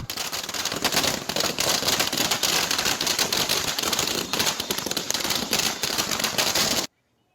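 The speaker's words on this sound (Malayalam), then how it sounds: "കോൺഗ്രസ് പ്രവർത്തകർ പടക്കം പൊട്ടിച്ച് ആഹ്ലാദ പ്രകടനം നടത്തി." Firecrackers burst in a dense, continuous crackling volley outside a Congress party office in Kannur during a celebration, loud and close, with rapid overlapping pops running unbroken for about seven seconds before cutting off abruptly.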